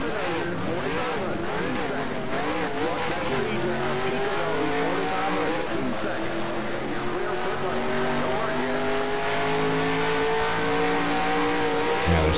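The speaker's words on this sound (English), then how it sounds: "Accelerate, just so we can get some cars spread out on the track." Race cars accelerating in NASCAR Racing 2003 at Daytona, a loud engine drone climbing in pitch with wavering revs and tire squeal, several cars sounding together, steady and close, with someone speaking over it at times.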